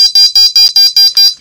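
A BraveStarr toy figure's laser gun fires a rapid, shrill electronic pulsing sound, about seven sharp bursts in quick rhythm, loud and close with no talk.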